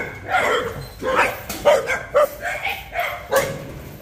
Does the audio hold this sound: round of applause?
no